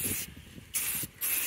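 Two or three bursts of aerosol spray hiss, close up, with brief pauses and faint rattling between them.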